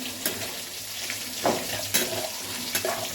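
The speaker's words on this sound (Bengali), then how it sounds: "পেঁয়াজটা ভাজা ভাজা হয়ে এসছে তো এবার আমি একটু অপেক্ষা করি তারপরে বাঁধাকপিটা দিয়ে দেবো" Onions fry in a pan during the cooking of cabbage with a fish head. The sizzle is soft and steady, with a few light scrapes and clinks of stirring against the pan and no talking.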